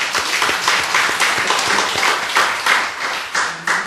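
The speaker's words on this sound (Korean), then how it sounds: "우리 박수 한번 해주세요." Congregation applause in a church, a dense, steady wash of many hands clapping close by and filling the room for nearly four seconds, with no speech over it.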